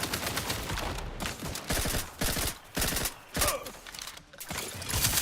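Bursts of rapid gunfire in the video game Outer Worlds 2, several loud rattling volleys broken by short pauses, with mechanical clicks between them.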